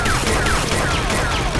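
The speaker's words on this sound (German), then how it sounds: "Hört sich so nach Schuss an" Gunfire in the survival video game 7 Days to Die: a rapid series of sharp shots crackles one after another through the full span, moderately loud over a steady low game rumble, with no one talking.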